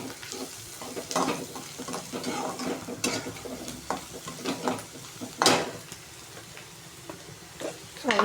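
Reddened onion sizzles in a pan with added turmeric while a spoon stirs and scrapes steadily, giving repeated close scraping strokes over a constant frying hiss.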